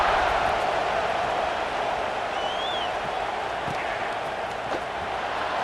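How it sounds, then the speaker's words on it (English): Stadium crowd in EA Sports College Football 26 keeps up a steady, dense buzz of massed voices after a score, a continuous roar with no single standout cheer, faint commentary-like murmurs underneath. "this crowd is buzzing after that last score"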